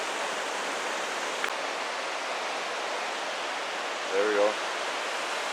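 Steady broadband rush of a river and waterfall in Johnston Canyon, Banff National Park, filling the scene at constant loudness, with a brief voice near the end.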